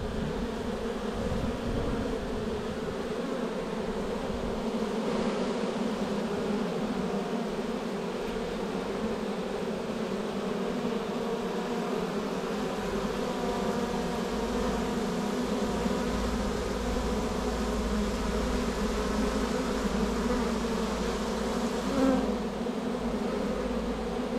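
A dense, continuous buzzing of many honeybees hums close by at a hive entrance during a swarm transfer from a nucleus box, steady and unbroken throughout with no voices.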